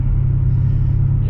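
An MG ZT 260 with a misfiring engine drones loudly as it drives, a heavy low rumble with an uneven pulsing texture and no break.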